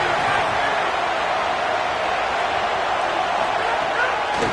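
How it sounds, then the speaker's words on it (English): A stadium crowd at a Michigan vs Clemson college football game roars in a dense, steady, loud wash of noise that holds without a break for the whole stretch. "Listen to this crowd just shaking the girders of this place"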